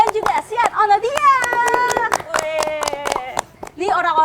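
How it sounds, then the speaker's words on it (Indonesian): An audience claps for young equestrian dressage athletes at a ceremony. Steady hand claps are heard throughout, mixed under a loud voice that speaks or calls out over them. "Tepuk tangan dong"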